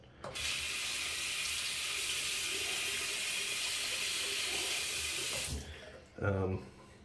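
Tap water runs steadily from a faucet for about five seconds as a safety razor is rinsed under it, a loud close rushing stream that stops, followed by a brief voice.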